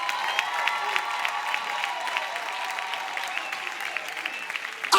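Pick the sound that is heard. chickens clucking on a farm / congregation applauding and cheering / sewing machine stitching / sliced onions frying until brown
congregation applauding and cheering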